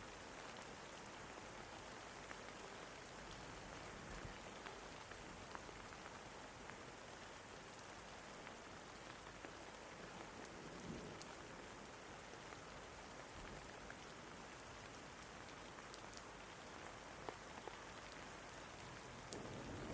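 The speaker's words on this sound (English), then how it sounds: "It's a little bit rainy today." Steady rain falling on a rainy day, a dense even patter of drops with faint scattered louder taps, soft and continuous throughout with no voices.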